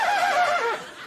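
A man imitates a horse whinny with his voice, a single short, quavering neigh that falls in pitch, close and clear.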